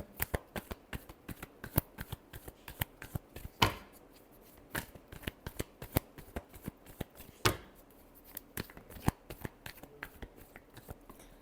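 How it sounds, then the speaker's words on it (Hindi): A deck of playing cards is shuffled over and over in quick riffling clicks with a few louder snaps, close and quiet with no talking. "Last shuffle."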